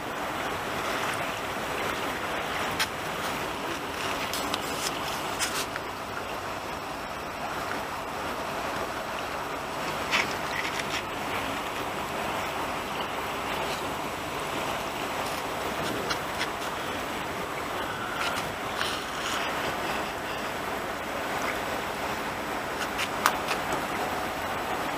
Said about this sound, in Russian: Паром,